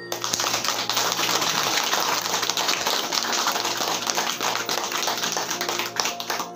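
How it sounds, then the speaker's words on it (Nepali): A crowd claps loudly and continuously for several seconds in a dense, sustained burst of applause at a meditation gathering. "जोरदार ताली बजाएर।"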